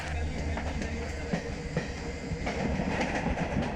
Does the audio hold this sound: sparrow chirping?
no